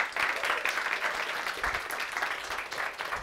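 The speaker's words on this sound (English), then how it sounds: "let's give Neil one more amazing round of applause" An audience applauds after a talk, a steady wash of many hands clapping at moderate distance, sustained throughout without talk.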